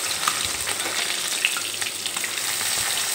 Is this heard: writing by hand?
no